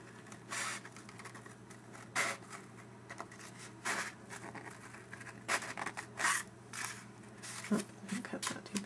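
Several short, crisp snips of scissors cutting paper, close by, spaced irregularly over a faint low hum.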